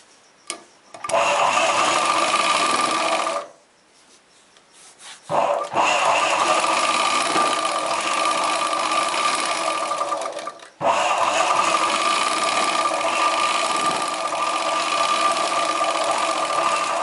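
A sewing machine stitches a chudidar pant in long steady runs, stopping briefly twice between bursts of continuous motor whir and needle rattle, close and fairly loud with no talk.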